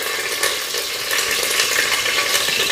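Whole spices such as bay leaf, cloves and cardamom frying in about three spoons of ghee for mutton biryani, giving a steady close, bright sizzle with light stirring throughout.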